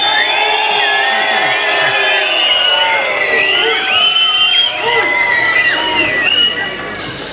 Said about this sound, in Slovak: Zapískajte alebo zakričte,